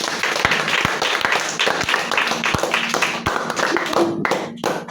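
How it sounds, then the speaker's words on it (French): A congregation at a children's Sunday church service claps in a loud, steady rhythm, with a few voices mixed into the clapping. "nous acclamons fort."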